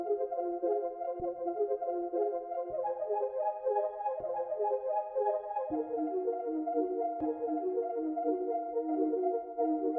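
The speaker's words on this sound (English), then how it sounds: "threw a double speed preset on with gross beat, render that out, and then pitch it down 2 semitones" Nostalgic music sample played at double speed and pitched down two semitones: sustained, layered harmonic tones with chord changes roughly every one and a half seconds, steady and moderately loud with no voices.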